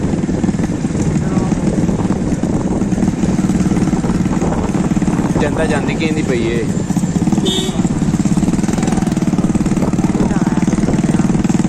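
A motorcycle engine drones steadily and close by under nearly continuous conversation, with a low, even hum running through the whole stretch.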